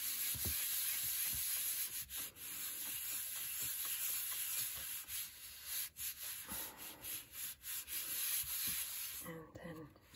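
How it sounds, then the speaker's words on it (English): Paper rubbed by hand onto a Gelli printing plate during a print-making demo, a steady close scratchy rubbing with rhythmic strokes, alone without talk, ending in a brief rustle. "give it a good rub."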